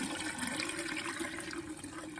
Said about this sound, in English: pour this straight down the sink